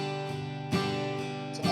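Acoustic guitar strumming a song's chorus chords, a few slow strums with bright attacks ringing out between them, close and clear with no talking.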